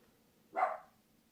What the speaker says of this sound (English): Oh gosh, that dog.